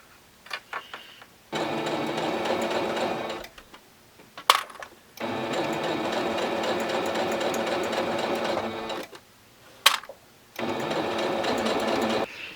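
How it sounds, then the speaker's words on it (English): A sewing machine top-stitches along the upper edge of a handbag pocket for a satchel, running in three sustained bursts separated by short pauses and clicks, close and steady. "now I'm just gonna go ahead and sew"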